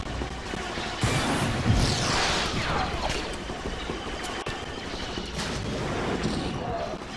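A grenade blast and battle noise in the Star Wars Battlefront video game, a loud dense rumble with crashing impacts running throughout, close and continuous under a busy game mix.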